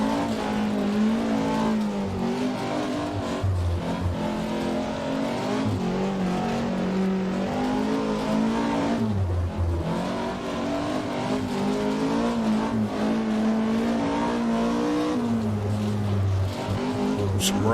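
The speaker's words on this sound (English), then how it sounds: "Just feathering the throttle." A rally car in the video game Richard Burns Rally on the RAC Rally stage drones on close and loud throughout, its engine pitch wavering and surging as the throttle is feathered over loose ground.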